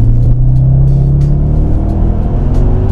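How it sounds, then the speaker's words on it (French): A loud Audi RS6 C5 wagon engine drones close by, its deep rumble steadily rising in pitch as it accelerates. "c'est peut-être le bruit du moteur."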